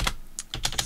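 Quick bursts of typing on a computer keyboard while writing C++ code, with a handful of close, crisp key clicks in an uneven rhythm and no talk.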